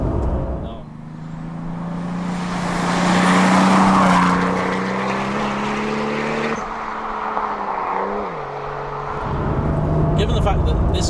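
A Toyota Supra engine with automatic gearbox drones and revs under acceleration from inside the cabin, pitch rising and dipping with gear changes, loud and continuous.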